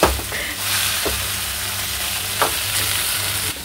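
Batter sizzling steadily in hot oil in a kadai, a continuous crackling fry with a few brief clinks and scrapes from stirring.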